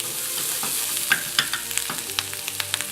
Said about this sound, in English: Now we just want to crisp the bacon up slightly